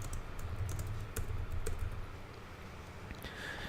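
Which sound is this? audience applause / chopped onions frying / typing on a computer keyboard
typing on a computer keyboard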